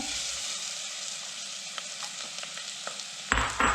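Half-sliced red onion sautéing in a pan, a dense, even close sizzle running throughout, with a few light utensil clicks and a louder stirring burst near the end.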